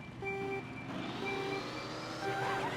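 Race start countdown beeps in the Mario Kart World game at the Flower Cup, a few steady tones sounding over engine hum and game noise, with a higher rising tone near the end.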